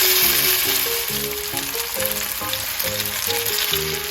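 Ingredients sizzling and frying in an oiled pan, a steady loud hiss and crackle filling the whole stretch, with soft background music underneath.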